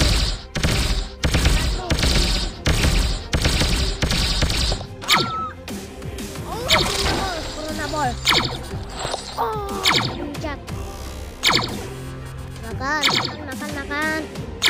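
Shooting-game gunfire from a Corona Ball battle game: about five seconds of dense, rapid automatic fire, then scattered shots and impacts mixed with chirpy game effects and some voices.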